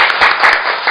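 Audience applause welcoming a lawyer to speak at a Korean policy forum on youth rights, a dense burst of clapping close by and fairly loud, lasting under a second.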